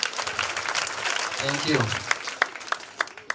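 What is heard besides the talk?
applause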